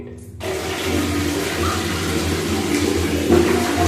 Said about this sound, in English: Then my bucket will be fulfilled with the water.